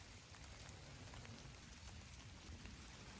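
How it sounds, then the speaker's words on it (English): Rain falls outdoors on a Dublin street, a faint, steady hiss of drops hitting the ground with no break and no voices. "Rain. Are you all wet?"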